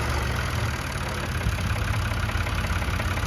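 A Ford 3610 Fordson tractor with about 1,200 hours idles steadily: a continuous low, even engine rumble with a slight rhythmic pulse, close and loud with no other sounds.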